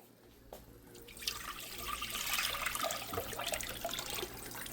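Tap water splashes steadily into a pot, opening with a brief clink before a loud, continuous rush of running water close by.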